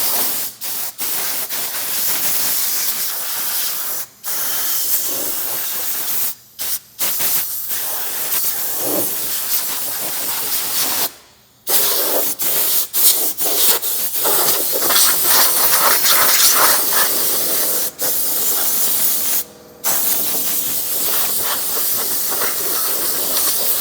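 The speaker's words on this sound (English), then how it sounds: "Compressed air. Leaves again, pine needles, loose dirt, debris, anything that's loose that we can blow free from the compartment." Compressed air blasts loose leaves, pine needles, dirt and debris out of a car engine bay, a loud continuous hissing rush broken by a few short pauses between bursts.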